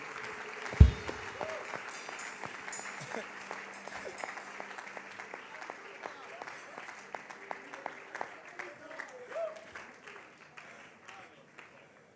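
Audience applause at a church teaching service, sustained clapping from a crowd that starts after a sharp thump, then gradually thins and fades, somewhat distant and moderate in level.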